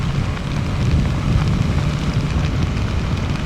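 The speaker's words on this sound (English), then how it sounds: "Oh, hey, look, there's heavy rain again." Heavy rain during a ride on a Kawasaki Ninja 650 motorcycle, a dense, loud roar of wind and rain blended with low engine rumble, steady and unbroken throughout.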